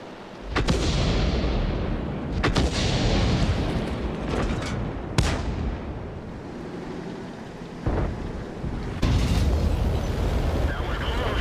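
Tank cannon fire and explosions in the game World of Tanks: several heavy booming blasts with rumbling decay, spaced irregularly across the clip over a constant engine-like drone, with a voice briefly audible.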